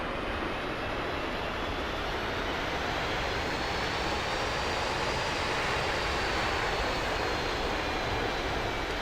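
Steady, loud jet whine and broadband roar of an AV-8B Harrier taxiing in the DCS flight simulator, continuous for the whole stretch with a faint high tone drifting slightly, no voices.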